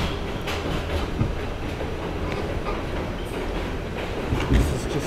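An R68 subway car on the New York D line rumbles along steadily with a loud, continuous roar and rattling wheel clatter, recorded from inside the moving car.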